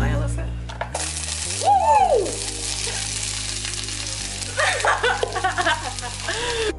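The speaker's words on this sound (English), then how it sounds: "So we're just frying our onions" Onions frying in grapeseed oil, giving a steady close sizzle that runs under background music for the whole stretch, with a few brief clinks of a utensil.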